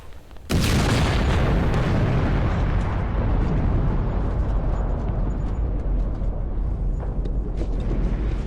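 A vast atomic bomb explosion over Hiroshima, bursting in with a sudden loud onset, then a sustained deep roaring rumble that fills the whole clip with no voices.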